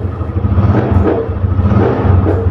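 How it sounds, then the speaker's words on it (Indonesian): A motorcycle engine climbs from idle as the throttle is raised, a loud close pulsing rumble that rises and swells in waves, with no speech. "Kalau kita naikkan putaran mesin"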